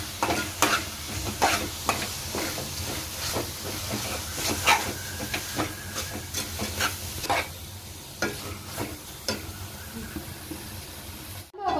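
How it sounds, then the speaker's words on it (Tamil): A spoon stirs and sautés a chili powder mixture in sizzling oil for squid gravy (kadamba thokku), with repeated scraping strokes over a steady frying hiss, close and fairly loud. "இதை நல்லா கிளறி விட்டு எண்ணெயிலே வதக்கி எடுத்துக்கலாம்"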